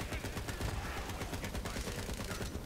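Gunfire in Borderlands rattles in rapid, continuous bursts of shots, steady and fairly quiet, with a dense layer of combat noise and no voice over it.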